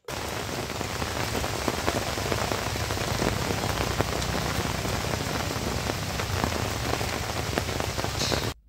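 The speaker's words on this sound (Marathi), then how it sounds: "पावसाला सुरुवात झाली आहे." Steady rain pours down on the way to Bhimashankar, a dense, even hiss of drops hitting surfaces, close and continuous with no voices.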